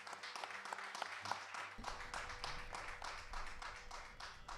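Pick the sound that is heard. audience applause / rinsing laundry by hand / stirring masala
audience applause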